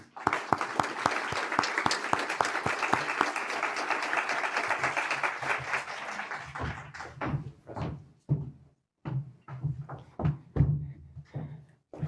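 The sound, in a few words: audience applause welcoming a speaker at the University of Melbourne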